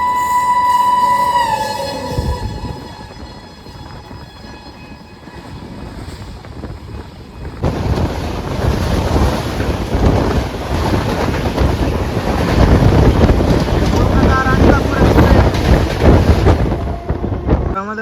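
The Kolkata–Radhikapur Express, train 13145, pulls out of Nabadwip station; after a brief voice, a loud, continuous rolling rumble with wind rush builds and holds steady to the end.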